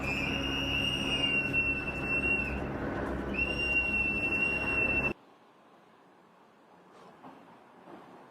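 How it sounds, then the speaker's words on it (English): Ear-piercing whistles blown by activists during protests in the Twin Cities, shrill sustained tones in long blasts over loud crowd noise, cutting off suddenly halfway through to a much quieter background. "all around the Twin Cities, you hear these ear-piercing whistles."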